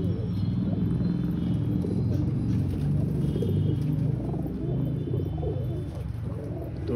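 A loft full of pigeons gives off a dense, continuous low cooing murmur, loud and close, blended into a steady rumble with no clear individual calls.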